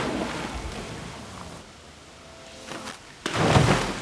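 A high-dive entry into a pool, a sudden loud splash of water near the end following quieter wind and water ambience, with a faint voice earlier.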